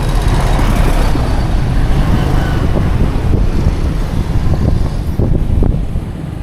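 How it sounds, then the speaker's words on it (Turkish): Dense road traffic in a jam, heard on a cycling tour through Cambodia or Vietnam, with a steady close rumble of cars, buses and trucks and engine noise spreading over a broad band, without horns. "Trafik kilitlendi."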